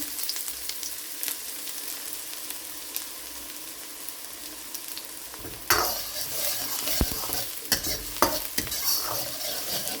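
Chopped onion and green chilies hit hot oil partway through, and a faint background hiss jumps to a louder crackling sizzle. Stirring clinks and scrapes follow over the frying.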